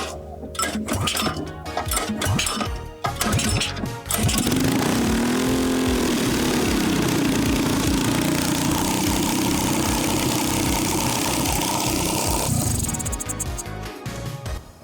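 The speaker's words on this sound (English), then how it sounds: "Okay, so the carb idle is like super high." A rebuilt Predator 212 small engine sputters and cranks with clattering bursts, then catches and runs loud and steady at a high idle, its close, buzzy drone holding for about ten seconds.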